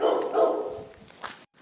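A dog barks in a ruined, run-down spot in a forest, giving a couple of close, fairly loud barks and a short yelp before it cuts off suddenly.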